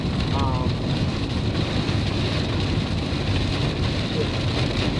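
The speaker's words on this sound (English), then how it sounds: "it's raining." Steady rain pours down in a loud, continuous wash, with a brief faint voice-like sound early on.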